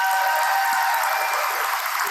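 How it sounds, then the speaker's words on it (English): Applause from the audience at a cafe competition event, a steady dense wash of clapping that carries on throughout with no voices over it. "Round of applause"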